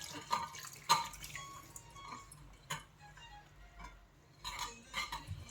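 Water pours and drips into a mixing bowl for a chicken fry mixture, with light clinks of a utensil against the dish in short bursts.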